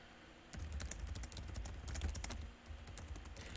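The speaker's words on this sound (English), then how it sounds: "Don't type on my keyboard." Continuous clatter of keys on a computer keyboard during an online 2v2 Twilight Struggle board game match, starting abruptly after a short quiet moment and continuing in irregular bursts, close and fairly quiet.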